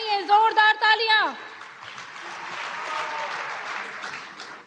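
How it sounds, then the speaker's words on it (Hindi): Applause at the groundbreaking ceremony of an HCL–Foxconn manufacturing facility: a voice speaks briefly, then a steady wash of clapping from the gathered crowd fills the rest, moderately loud and sustained. "जोरदार तालियां"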